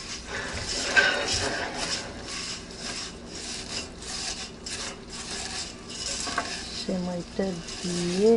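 Vermicelli (semai) stirred in a pan, giving soft, steady scraping and rubbing over a quiet background, with faint vocal sounds toward the end.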